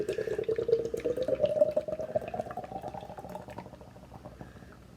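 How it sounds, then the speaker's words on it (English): Nara Brewing Cosmic Latte beer poured hard and straight down into a glass, a continuous rushing, bubbling gush that starts loud and slowly softens as foam builds, with no talking. "Oh well, hard vertical pour."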